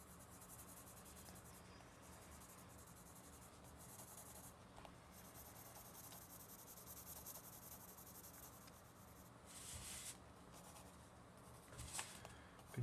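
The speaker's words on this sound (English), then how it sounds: "I'm comfortable shading with a pencil." A pencil shades across paper in a steady, faint scratching and rubbing that continues throughout, soft and close with no voices.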